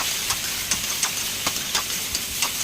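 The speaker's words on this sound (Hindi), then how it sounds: "यहाँ पे कढ़ाई में मैंने ऑयल डाला, और उसमें फिर उबली हुई कटहल को मैंने फ्राई कर लिया।" Boiled jackfruit fries in hot oil in a kadai, a constant bright sizzling hiss with small crackling pops scattered through it, close and steady, with no talk.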